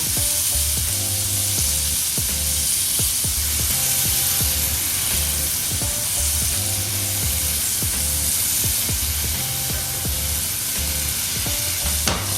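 Butter sizzles and fries in a hot pan around ribeye steaks, a steady loud crackling hiss with occasional stirring and scraping clicks, continuous and close throughout.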